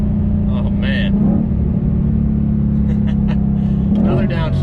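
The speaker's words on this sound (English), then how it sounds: "this car just sounds so good from the factory" A 2020 Ford GT500 engine growls loudly and steadily from inside the car, with revving blips on downshifts and brief voice sounds over the rumble.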